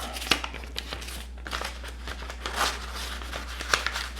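Paper cash bills slid into a paper envelope, soft crinkling and rustling in short irregular bursts with a few sharper crackles, close and quiet.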